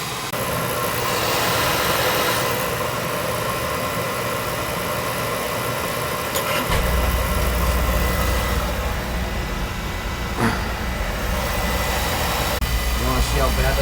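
An oil burner, one that runs for a week before tripping its protector relay, hums with a steady broadband whir, then fires partway through into a deep, continuous low roar that holds to the end.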